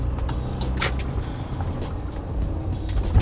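A car driving through traffic while making a left turn, heard as a steady engine hum and road rumble from inside, with no talking.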